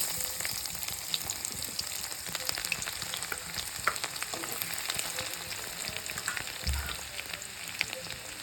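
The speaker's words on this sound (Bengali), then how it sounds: "ফোড়নে তেজপাতা শুকনো লঙ্কা আমি দিয়ে দেবো রসুন কুচিটা দিয়ে দেব" Bay leaf, dried red chili and chopped garlic sizzle and crackle steadily in hot oil for a tempering, with a busy, even frying hiss throughout and a brief low thump near the end; no voices.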